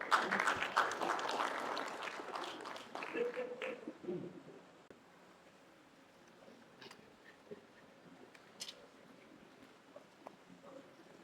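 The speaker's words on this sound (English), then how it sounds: "Please, a round of applause for her." Conference attendees give a round of applause for a speaker, a moderate burst of clapping that fades after about four seconds, leaving a quiet room with scattered small knocks and rustles.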